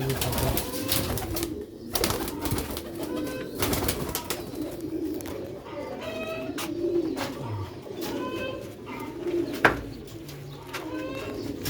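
Caged pigeons and quails coo repeatedly, overlapping low rolling calls with scattered chirps, close and steady throughout with little pause.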